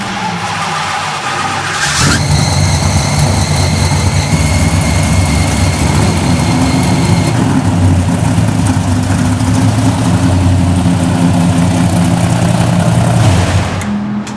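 A rebuilt Hemi V8 engine in a drag-racing car fires up and runs, a loud, close, steady low rumble with whining tones layered over it, holding a rough idle before cutting off near the end.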